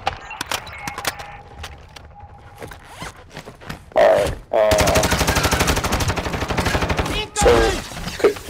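Modern Warfare 2 DMZ firefight during a hostage extraction: bursts of automatic gunfire, loud and close, with a long sustained rattling volley in the middle and sharp single shots around it, while voices talk quietly at times.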